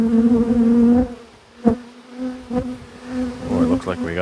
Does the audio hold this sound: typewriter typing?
no